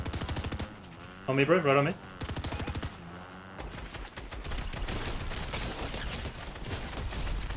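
A tactical assault rifle fires in a video game, with short bursts early on and then a long run of rapid, evenly spaced shots. Someone talks briefly before the sustained fire.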